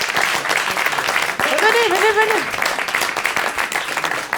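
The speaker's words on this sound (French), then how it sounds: "On remercie tout le monde, on peut les applaudir." An audience at a theatre round table applauds with steady, dense clapping throughout, while a voice briefly speaks over it near the middle.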